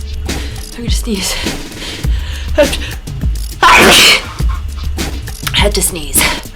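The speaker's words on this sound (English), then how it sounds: "I'm gonna sneeze." A string of close, forceful sneezes, one especially loud and sharp in the middle, separated by breathy gasps and vocal noises.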